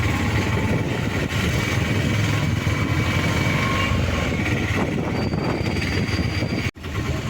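Auto rickshaw engine drones steadily and loudly throughout a ride to Thiruvalla railway station, with constant road rumble and a brief dip near the end.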